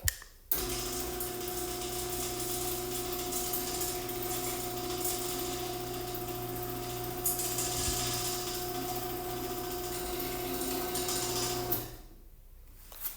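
A Craftsman 139.53681B engine runs steadily on a test rail, a constant humming drone with strong tonal harmonics holding level for about eleven seconds before cutting off, alone with no talk.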